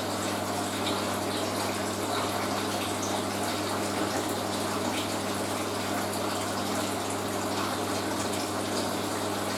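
Hoover A3060 washing machine pumping out water, a steady continuous rushing gush with a constant low pump hum, even and unbroken throughout.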